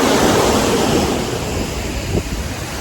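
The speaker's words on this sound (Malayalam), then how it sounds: "നമ്മുടെ ക്ലിഫിന്റെ ഇവിടെ വരെ വെള്ളം വന്നു ഗൈസ്" Sea waves surge up to a cliff at a beach in a loud, rushing roar with heavy wind buffeting, then ease off with a brief splash near the end.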